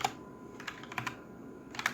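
Someone types code on a computer keyboard during a unit-testing programming lab, a steady run of close, crisp key clicks with small bursts and brief pauses.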